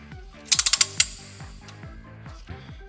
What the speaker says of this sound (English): You will know when you've reached the value when the handle of the torque wrench clicks and you see it move